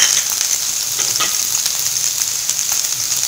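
Onions frying with green chillies in hot oil for a mooli paratha filling, a loud, continuous close sizzle with a few faint stirring scrapes and no voices.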